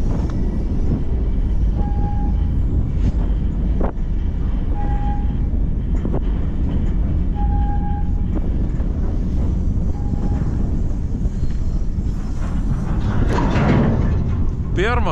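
An iron ore freight train rolls slowly through the Sahara in Mauritania, giving a continuous low rumble and rattle of wagons with periodic clanks and metallic squeals, heard from on board with no clear talk.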